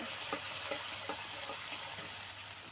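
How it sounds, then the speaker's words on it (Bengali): Water poured into spice paste frying in a pan for a Bengali curry, giving a steady, close hiss with faint crackles throughout. "মশলার পানি দিয়ে দিচ্ছি,"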